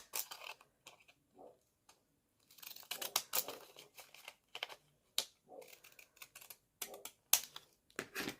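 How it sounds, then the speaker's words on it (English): Scissors snip through paper along a decorative edge of a handmade junk journal tag, giving quiet, irregular bursts of crisp cutting and crinkling with short pauses between strokes. "I'm going to go ahead and just cut along the edge there"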